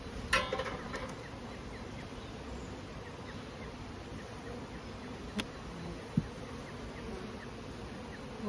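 Honeybees buzzing inside a nucleus beehive during a winter check, a steady close hum with a couple of faint knocks, no talking.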